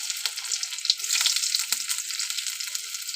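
Chopped garlic dropped into hot oil seasoned with nigella seeds, a dense close sizzle and crackle with a few brief stirring scrapes, no voices.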